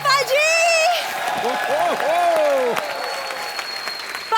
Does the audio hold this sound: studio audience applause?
yes